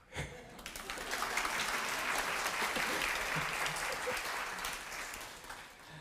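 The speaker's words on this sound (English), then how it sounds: "And you can clap." A concert audience in Sydney claps together, a dense, even wash of applause that swells quickly and holds steady for several seconds before tapering slightly, heard from within the hall at moderate level.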